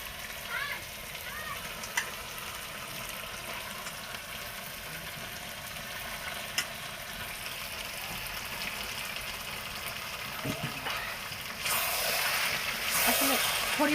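Chicken meat goes into a pot of well-fried spices on a wood-fired clay stove. A steady low sizzle with a few sharp clicks swells into a louder, hissing burst of frying near the end.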